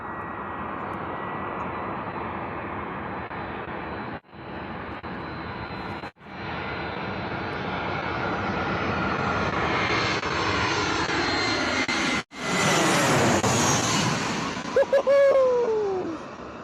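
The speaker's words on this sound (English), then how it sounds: "EasyJet A320 coming in from Barcelona this morning." An EasyJet Airbus A320 jet airliner landing at Bristol Airport, inbound from Barcelona: a loud, steady engine roar builds as it passes close overhead, then a rushing surge and a falling whine trail off, with no talking.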